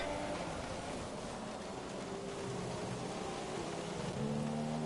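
Steady rain hiss with a low rumbling engine drone underneath in the F1 2017 racing game, Australia round, continuous throughout and without any voices.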